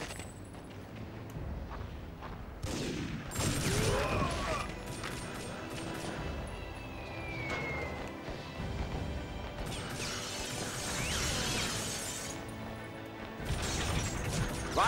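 Gunfire and crashing impacts in the TimeSplitters: Future Perfect shooter, a dense, continuous barrage of shots and clattering hits at fairly close range, with no speech over it.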